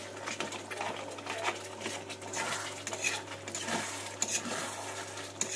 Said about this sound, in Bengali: দিয়ে আবার একটু আমি নেড়ে দেবো আস্তে আস্তে করে।